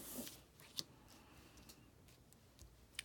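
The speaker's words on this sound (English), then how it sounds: "I'm gonna use my cruddy craft scissors." Cheap craft scissors snip through sticky paper in a few sharp, faint clicks spaced apart, close by in a quiet room.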